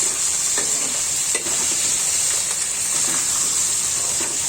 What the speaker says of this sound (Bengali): মাখিয়ে নিচ্ছি মাছগুলো ভেজে নিচ্ছি